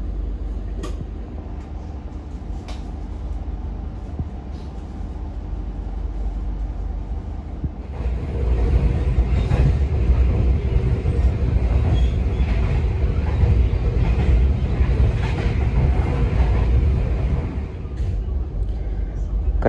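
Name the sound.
Tawang Jaya train departing Pemalang station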